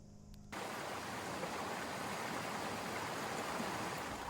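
After a brief quieter moment, rushing water fades in and flows steadily, a close, dense babble that continues to the end.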